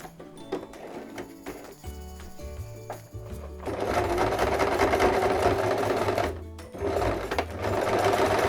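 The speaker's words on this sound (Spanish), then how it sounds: "Y ahora vamos a coser solo los extremos para dejar fija" A sewing machine stitches across the ends of a bag strap on a zippered mini crossbody bag. Short bursts of clicking and handling lead into a loud, steady motor whir. The whir stops briefly, then starts up again.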